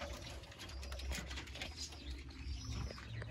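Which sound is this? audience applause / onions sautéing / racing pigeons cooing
racing pigeons cooing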